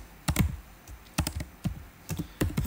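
Typing on a computer keyboard, with quick clusters of crisp key clicks in an uneven rhythm, close and clear, with no voice.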